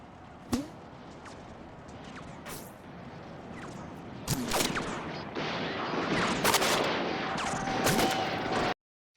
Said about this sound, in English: how documentaries and movies could mimic the sound of bullets